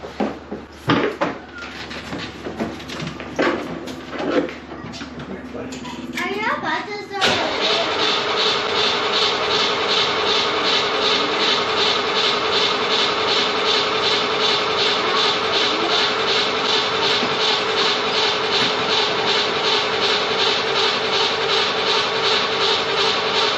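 A C2 Corvette engine that sat for 10 years cranks with rattling clatter, then a steady loud drone takes over and holds close and continuous; voices are heard early on.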